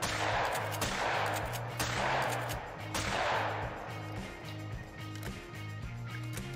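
Rifle shots ring out in the hunting video game theHunter: Call of the Wild during a duck hunt, several sharp cracks spaced about a second apart, each with a trailing echo, over a steady low game ambience.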